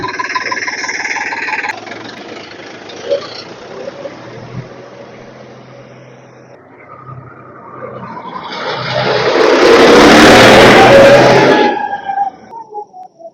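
A 2016 Sonalika 750 4x4 tractor with a cabin turns over and roars up loudly, then settles toward a rough, steady rumble at close range.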